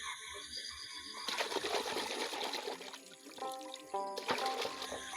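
Cleaned small fish being washed by hand in water in a village kitchen, with splashing, pouring and trickling water close by, then quieter drips and clinks.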